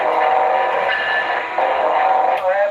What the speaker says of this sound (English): Some guy's putting train wreck sounds.